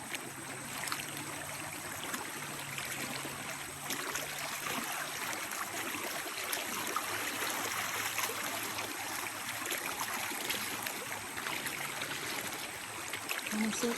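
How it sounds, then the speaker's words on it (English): A river stream at a campsite flows steadily with a broad, even rush of water, close and continuous for the whole stretch, with no talking over it. "It's lazy river-ish now."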